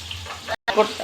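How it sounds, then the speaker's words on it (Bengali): Koi fish fry in a pan with garlic, giving a brief steady sizzle that cuts out for a moment and then returns, with faint voices behind it. "মাছগুলো ভাজা হচ্ছে"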